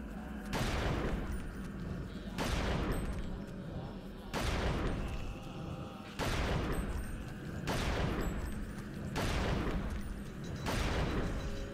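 Repeated bursts of gunfire against a tough zombie in the video game Eternal Darkness: Sanity's Requiem, loud and steady, arriving about every two seconds in a regular rhythm, with someone talking over them.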